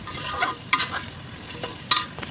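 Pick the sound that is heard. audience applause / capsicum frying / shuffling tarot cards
capsicum frying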